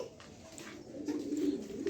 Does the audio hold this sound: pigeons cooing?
yes